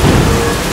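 Heavy monsoon-season rain pours down as a loud, dense, steady hiss, close by and filling the brief moment with no voices.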